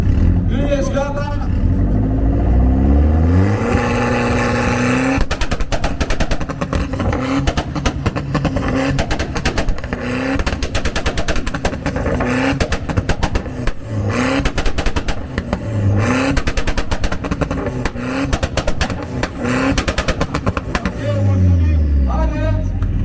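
Loud car exhaust revving at a car show's exhaust sound competition in Cernavoda, a long run of harsh, crackling revs in rapid bursts, very close and loud, with voices talking around it at the start and end.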